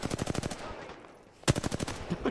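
Rapid automatic gunfire from a Call of Duty style shooter match in Code Red mode, bursts of loud close shots with a brief lull before another volley resumes, game sounds continuing underneath.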